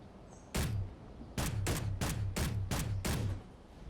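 Gunfire aimed at target dummies in the video game Space Engineers: six sharp, loud shots, one alone and then five in a quick, steady run, with no talk.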